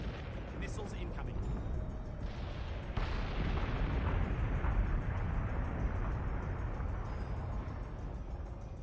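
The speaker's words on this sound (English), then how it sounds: "Missiles incoming." Incoming missiles explode in a Battlestar Galactica space-combat video game, a dense, continuous rumbling barrage of blasts that swells louder after a few seconds, with voices faintly present beneath.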